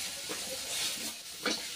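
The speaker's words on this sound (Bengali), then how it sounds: "ওই তেলে বেগুনগুলো ভেজে নেব" Brinjal pieces frying in oil left over from frying pangas fish, a steady close sizzle with brief stirring scrapes and bursts of hiss, no voices.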